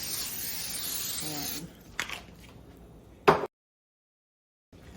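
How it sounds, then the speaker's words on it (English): Cooking spray hisses steadily into a pan for about a second and a half, then a couple of short clicks and a brief burst, followed by silence. "it probably does need cooking spray at each time"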